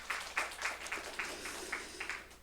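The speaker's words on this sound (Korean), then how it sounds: "우리 박수로 축복을 하겠습니다" A church congregation at a Sunday morning service claps, several soft rhythmic claps spaced evenly, faint and somewhat distant.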